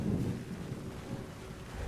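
Thunder rumbles through a lightning storm in the video game Skyrim, a short, low, rolling roar with a soft wash of rain behind it.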